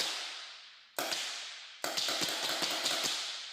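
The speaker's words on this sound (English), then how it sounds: "here's some recorded paintball noises." Recorded paintball gun shots played back over speakers: a rough hissing burst, then a sudden sharp crack and a quick ragged string of snapping pops, loud and harsh against a noisy wash.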